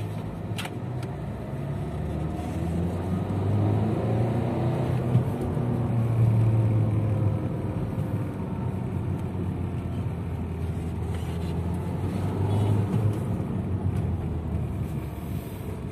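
A Nissan Terrano drives in second gear with a steady engine drone and road rumble heard from inside, plus light wind noise and a few small clicks, and no speech.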